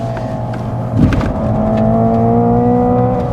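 Hyundai Ioniq 5 N electric car accelerating hard on the Sydney Motorsport Park race track, a loud steady synthetic drive whine with rising tones and a brief thump near the start, continuous and close.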